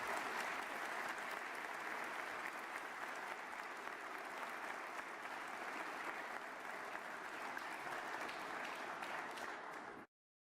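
A large assembly at a state of the state address gives a girls' basketball team a standing round of applause, steady dense clapping at an even level throughout before cutting off abruptly.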